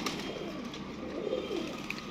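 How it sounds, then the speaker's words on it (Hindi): Pigeons coo softly and continuously, a low murmuring under faint higher chirps, from a loft of ringed pigeons kept in pairs. "कबूतर देखो"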